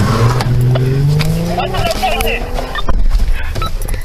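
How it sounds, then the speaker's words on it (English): A black 2017 Chrysler 300 speeds away, its engine revving and tires squealing as it accelerates off, loud and close, with a voice talking over the sound. "Be advised, the vehicle took off."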